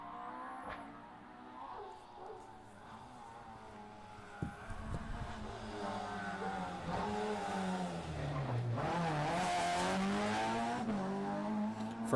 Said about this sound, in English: Class 11F car, 1600 front wheel drive.